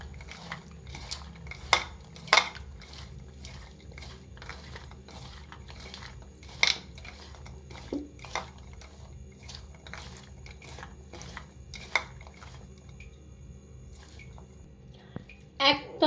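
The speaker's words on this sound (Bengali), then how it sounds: "এবার আমি ভালো করে মাখিয়ে নেব।" Chana masala being mixed by hand or spoon with boiled potato pieces and lemon juice, giving soft squishy mashing and scattered light clinks against the bowl, close and fairly quiet.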